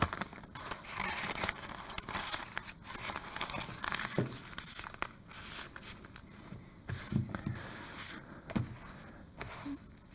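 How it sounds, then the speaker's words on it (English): Sheets of butcher paper are handled at close range, with crinkling, rustling and sharp crackles in irregular bursts between quieter moments. "So 4 pieces of butcher paper that will slide in."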